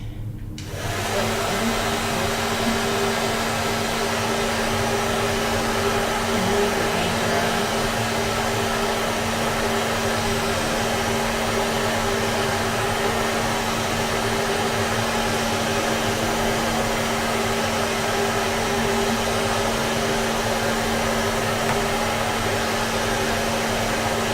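A hair dryer blows steadily on a watercolour painting, switching on at the start and then holding a loud, even whooshing drone with a low motor hum throughout.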